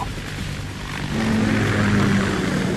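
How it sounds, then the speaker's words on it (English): A Kamov Ka-60 Kasatka helicopter in Metal Gear Solid 2 gives a brief whirring engine drone that swells louder and steadies partway through, heard without talk. "Ka-60 Kasatka. Kasatka? Kamov chopper, right?"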